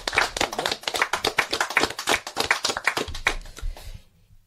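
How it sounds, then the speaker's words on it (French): A small group claps for a wine sommelier at a French television interview, brisk individual hand claps close by in an uneven rhythm, stopping abruptly near the end. "Donc, on peut l'applaudir."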